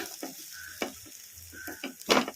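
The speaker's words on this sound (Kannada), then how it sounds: "ಈ ಕಡಾಯಿ ಹೀಟಿಗೆ ಇವೆಲ್ಲ ಫ್ರೈ ಆಗ್ತಾವು" Cumin, curry leaves and garlic frying in a hot kadai for green tomato chutney: soft crackling sizzle under a series of scraping stirs, with a louder scrape at the end.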